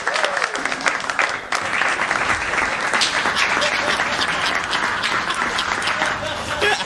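An audience at a Hindi comic poetry gathering breaks into loud, sustained applause, a dense wash of clapping hands that carries on for several seconds.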